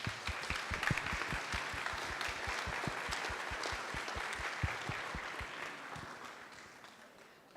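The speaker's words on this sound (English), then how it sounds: "A round of applause." Audience applause at a startup launch event, a steady wash of many hands clapping with sharp individual claps standing out, holding for several seconds and tapering slightly at the end.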